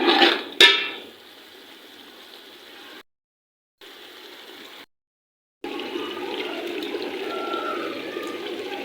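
Water poured into a pot of soaked old rice for pulao, a steady splashing pour after a short clatter, with brief gaps and then a continuing gurgle, close and fairly loud.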